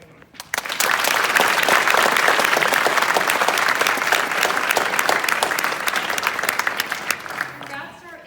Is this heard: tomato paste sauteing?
no